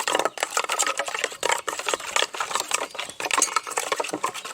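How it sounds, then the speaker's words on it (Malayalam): Fish masala with squeezed lemon juice is stirred by hand, a quick wet scraping and squelching that comes in uneven bursts, close and fairly quiet, with no one talking. "ഇതൊന്ന് മിക്സ് ചെയ്യാം, ലൈറ്റായിട്ടൊന്ന് മിക്സ് ചെയ്യാം."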